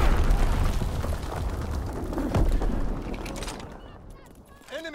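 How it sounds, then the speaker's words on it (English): Mortar fire explodes in a video game battle, with heavy rumbling booms loud at the start and a strong thump near the middle before the blasts fade toward the end. "Enemy mortar fire incoming."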